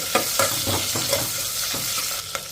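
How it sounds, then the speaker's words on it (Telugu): Chopped onion pieces fry in a pan with a close, steady sizzle, punctuated by several quick stirring scrapes in an uneven rhythm. "ఈ ఉల్లిపాయ ముక్కల్ని 1 నిమిషం ఫ్రై చేసేసుకోవాలి."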